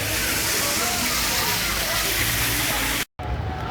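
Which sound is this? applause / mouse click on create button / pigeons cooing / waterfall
waterfall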